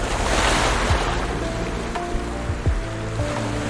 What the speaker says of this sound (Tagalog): Malakas yung alon dun pero parang may breakwater.